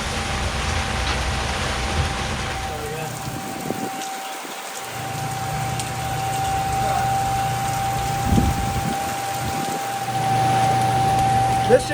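Rain falling at Buckshot Speedway during the Peach City SCDRA Bash, a steady broad hiss of drops on surfaces running through the whole stretch, with a low rumbling hum beneath and brief dips in the patter.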